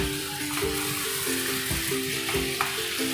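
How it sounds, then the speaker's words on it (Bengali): Roasted brinjal pieces stir-fry with spices in a wok for a Bengali egg-brinjal bharta, with a continuous close sizzle and regular spatula scrapes about every half second. "মশলার সাথে খুব ভালোভাবে এটাকে কষাবো।"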